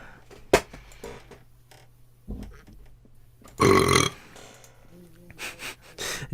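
A loud, drawn-out burp rings out in the middle, framed by a few shorter throaty sounds and bits of quiet background noise.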